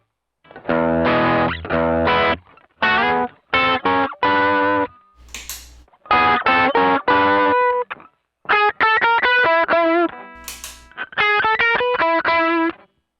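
An electric guitar played through distortion and other effects pedals rings out in loud, thick chords and riffs, broken by short pauses.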